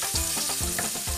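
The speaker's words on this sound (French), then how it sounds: "on va faire suer nos poireaux" Leeks and onions sweating in a pan produce a close, continuous sizzle broken by quick stirring scrapes, over just over a second with no voices.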